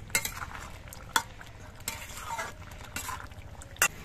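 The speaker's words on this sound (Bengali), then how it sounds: "এবার নিম পাতার গুঁড়ো দিয়ে নেড়ে চেড়ে মিশিয়ে দিতে হবে।" Neem leaf powder being stirred into neem shukto in a cooking pan, with a few sharp spoon-on-pan scrapes and clinks spaced over a low, steady cooking background.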